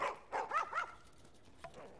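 Puppies in The Last of Us bark in a few sharp yips, then give a brief whimper, fairly close and alone, with no talk.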